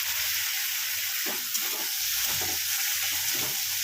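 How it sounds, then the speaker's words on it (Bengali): Onions fry in a pan after a splash of water, hissing in a loud, continuous close-up sizzle broken by several scraping stirs. "এখানে আমি একটু জলের ছিটে দিচ্ছি, পেঁয়াজটা পুড়ে যাবে না।"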